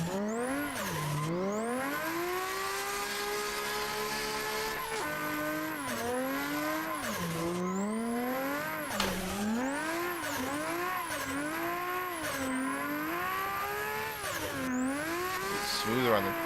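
Car drifting in Assetto Corsa, with a loud engine repeatedly revving up and dropping in pitch while the tires squeal in long sweeping bursts, close and continuous throughout.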